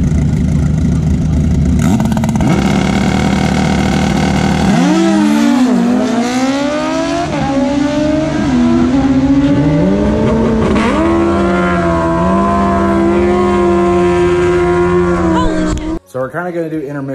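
Turbocharged Suzuki Hayabusa motorcycle launching off a two-step on a drag strip, a loud engine roar climbing in pitch through several rising gear sweeps before cutting off abruptly.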